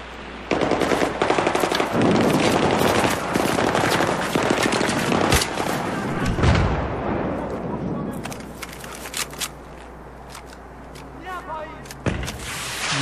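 Battlefield 3 combat with enemy rifle fire: dense rapid bursts of automatic gunfire and single shots, loud and close, thinning into scattered shots and clatter, with someone talking over it.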